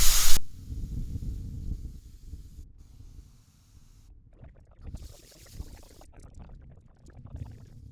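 A hissing spray of water from a garden hose runs steadily over potato plants, starting with a loud burst then settling into a softer rushing and splashing that fades in and out.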